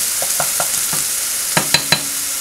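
Onions frying in a pan for an Italian bolognese sauce, a steady broad sizzle under a few soft stirring scrapes early on and three sharper utensil clinks near the end.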